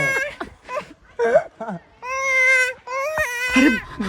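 A person imitating a baby monkey's cries: a series of high, wavering squeals and whimpers in short bursts, close and loud.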